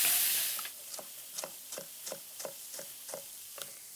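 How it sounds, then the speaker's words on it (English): Shallots and garlic sautéing in a pan, a soft steady sizzle under a rhythmic series of about nine light scraping stirs, close and fairly quiet after a brief louder hiss at the start. "We're gonna cook the shallots and the garlic in all of that"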